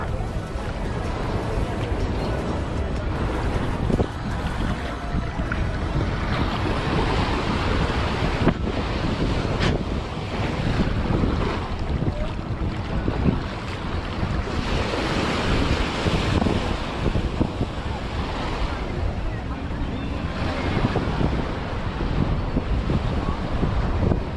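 Sea waves wash onto a beach at sunset, a steady broadband surf roar with recurring swells and gusty wind noise on the microphone throughout.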